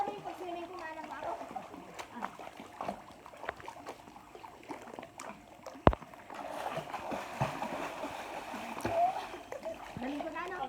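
Water splashes and sloshes as friends swim during a relaxed outing, with one sharp splash partway through; people talk and call out over the watery movement.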